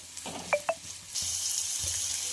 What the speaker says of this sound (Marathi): ते सुद्धा आपण यामध्ये घालणार आहोत आणि छान असं फ्राय करून घ्यायचं आहे 2 ते 3 मिनिटं